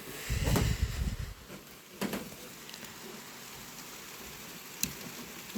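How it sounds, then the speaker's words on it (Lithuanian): Rain falling outside a window in Venice during a thunderstorm, a soft steady patter with a few brief louder knocks and drips, heard from indoors at a moderate distance. "noriu parodyti, kaip lauke lyja ir griaudėja."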